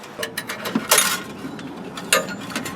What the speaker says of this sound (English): What I'm doing here is tightening the carriage bolt.